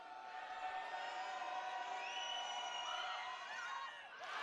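A high school basketball crowd at a Section V Class C1 semifinal erupts after a shot by Clyde-Savannah, a dense, loud roar of cheering and whooping that holds steady and then slightly fades toward the end.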